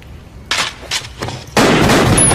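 Gunfire in a French film: several sharp, loud bangs in quick succession, followed by a dense, continuous burst of shots that fills the final second.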